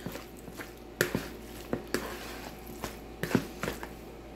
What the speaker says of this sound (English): I'm going to stir it.